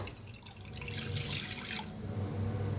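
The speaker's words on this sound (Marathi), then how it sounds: "गॅसवर ठेवलेली आहे कढाई, पाणी ओतूया" A glass of water poured steadily into a kadhai on a gas stove, a close splashing, trickling stream that continues throughout without any voices.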